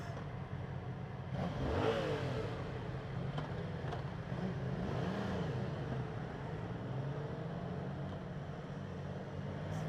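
Yamaha FZ-07 motorcycle engine while riding, a steady, fairly faint mid-pitched hum with gentle rises and falls in revs under constant wind noise, and no talking.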